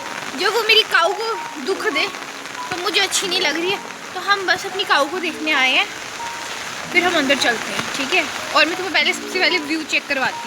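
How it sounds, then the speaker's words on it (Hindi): Heavy rain pours down at a home, making a constant splashing hiss on surfaces throughout while someone talks over it. "पर तुम आवाज़ से सुन लो कि कितनी ज़्यादा बारिश हो रही है।"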